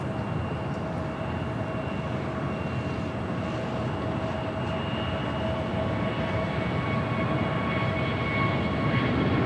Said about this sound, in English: American Airlines Flight 1160 coming in from Phoenix, Arizona on an A320